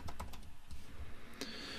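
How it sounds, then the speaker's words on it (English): Someone types email addresses on a computer keyboard, a quick run of close, crisp key clicks with uneven rhythm and no voice over them. "So I can just start typing email addresses, just using some of my test accounts I've got."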